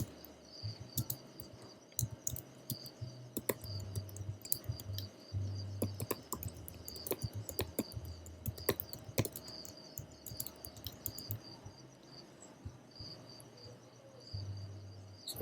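Quiet, irregular clicks of a computer keyboard as a terminal command is typed on a Mac, light taps scattered through the clip over a faint constant background hiss with insect-like chirping.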